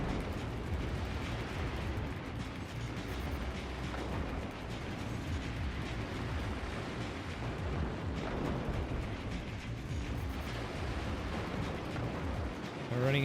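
Mortars fire rapidly in the physics strategy game Forts, a dense, continuous barrage of booming blasts and rumbling impacts that blend into a loud, unbroken roar.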